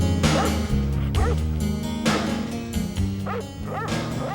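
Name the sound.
sled dogs barking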